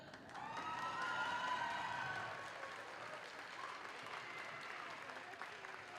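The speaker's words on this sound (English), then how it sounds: "Clap it up." An audience applauds warmly at a girls' basketball game, with a few cheers and whoops rising early, then the clapping settles into a steady, quieter patter.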